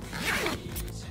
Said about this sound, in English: You open with a zipper.